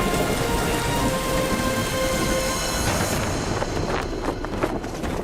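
Heavy rain pours down steadily in a thunderstorm, a loud, dense hiss with rolling thunder rumbling underneath and no break throughout.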